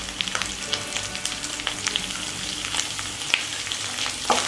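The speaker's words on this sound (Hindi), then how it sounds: "इसको हम मिक्स कर लेंगे एक बार" Diced potatoes with red chilli powder, turmeric and salt being stirred in a frying pan, a continuous close sizzle with irregular scraping taps of the spoon, no talk.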